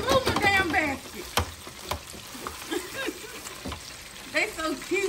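Chicken frying in hot oil in a basket gives a bubbling sizzle beneath several people talking, with a few sharp clatters of the basket.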